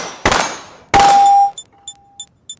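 Steel target plates in a dry-fire shooting game take two sharp metallic clangs, the second ringing with a sustained tone, then four brief light tings spaced evenly as the plates drop; close and loud with no voices.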